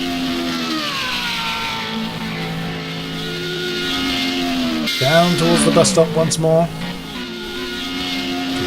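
Formula Renault 3.5 race cars scream through a racing video game at Spa-Francorchamps, with a sustained engine whine and a car sweeping past loudly in the second half while a commentator talks throughout.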